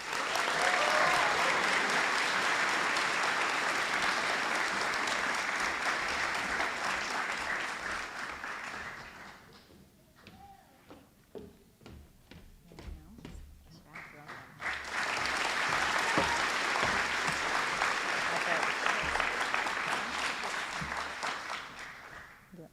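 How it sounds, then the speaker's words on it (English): Applause for scholarship recipients at a high school commencement: a loud, sustained round of clapping from a large crowd, which dies down to scattered claps midway, then swells again into a second full round. "one more round of applause for all of our recipients"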